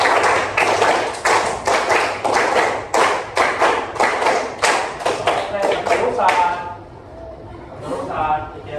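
A group claps hands in rapid bursts of sharp claps in counted sets, loud and close, with brief pauses between sets, then fades to quieter sounds and voices.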